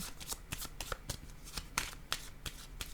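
A deck of oracle cards being shuffled by hand, a rapid series of crisp riffling flicks and taps repeating close up for a few seconds, no speech.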